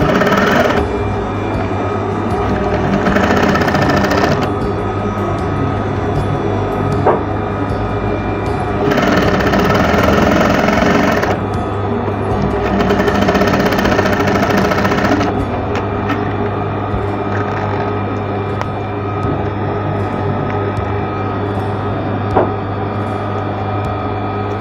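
Industrial sewing machine stitching a fabric apron, running in several long continuous bursts with brief pauses between, a steady close mechanical whir.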